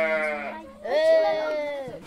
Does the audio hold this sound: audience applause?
no